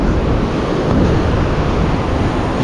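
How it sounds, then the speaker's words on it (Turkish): Rough ocean waves wash steadily onto a beach in Phuket, a continuous loud surf roar with wind buffeting and no voices. "Çok dalgalı bir deniz."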